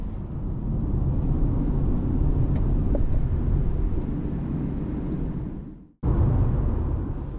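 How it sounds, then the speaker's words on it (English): A manual car's engine drones steadily with road rumble, then cuts out abruptly for a moment and picks back up during a rev-matched gear change, heard from inside the car. "The extra engine revs match the higher road speed of the car, and it results in a perfectly smooth gear change."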